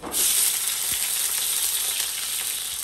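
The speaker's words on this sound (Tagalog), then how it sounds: "Then magigisa na tayo ng sibuyas, bawang." Onion and garlic sautéing in a pan for Filipino pork kaldereta, a loud, steady close-up sizzle and crackle throughout with a brief clunk of a utensil near the start and no voices.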